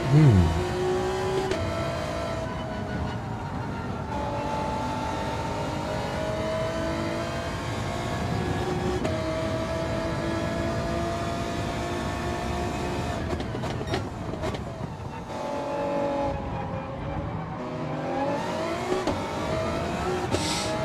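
Racing-game engine of a GT-R race car in a Gr.2 league event, a continuous loud engine drone with rising and falling pitch through gear changes, running steadily with other cars around.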